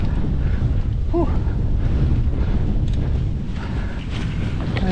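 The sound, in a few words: wind blowing on hilltop during mountain bike ride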